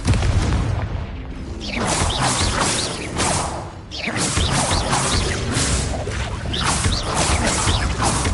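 Confringo blasting spell in a Harry Potter video game, a loud opening boom followed by rolling crashes, whooshes and explosive bursts that keep the fight continuously dense.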